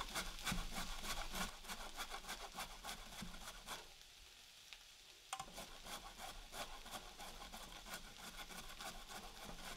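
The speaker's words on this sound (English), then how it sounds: "So we'll start grating this yam." Yam grated by hand on the fine side of a grater for Balinese donuts, a steady run of rapid rough rasping strokes, close and loud, with a brief pause midway before the scraping resumes.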